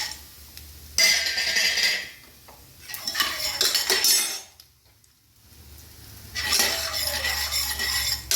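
Mustard seeds, urad dal, chana dal and peanuts roast in hot oil while a spoon scrapes and clinks around the pan. Bursts of stirring come close and loud, broken by near-silent pauses.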